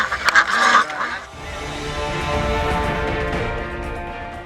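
Ducks kept on a winery farm quack in a quick, loud burst close by, followed by quieter honking and murmuring calls that carry on in the background.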